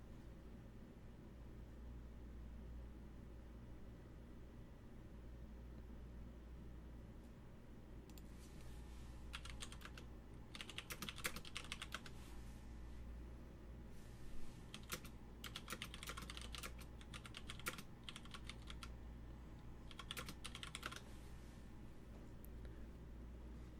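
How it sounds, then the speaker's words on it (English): Bursts of typing on a computer keyboard during a game against an online opponent, quick irregular clicks in clusters over a steady low background hum, fairly faint and close. "Sorry, I'm typing to my opponent."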